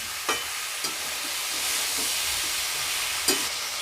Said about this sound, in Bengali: এবার আমি এইগুলোকে সব সবগুলোকে এবার ভালোভাবে নাড়াচাড়া করবো